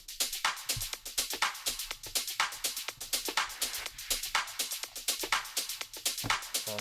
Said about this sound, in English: Moving on, the drums, quite a simple loop. Let's play it through.